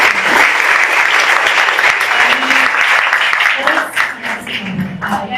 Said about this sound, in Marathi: सगळ्या सरांसाठी जोरदार टाळ्या.